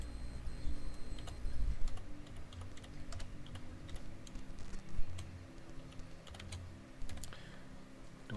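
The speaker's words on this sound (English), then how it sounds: "Now type February 15th." Keys clatter on a computer keyboard while a date is entered in Microsoft Word, with irregular bursts of close, crisp clicks and short pauses between them.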